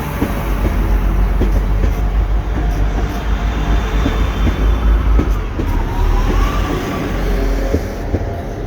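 A train passes through Shrewsbury station, a loud, steady rumble of wheels and carriages with low mechanical roar throughout, close by and continuous, with no talk over it.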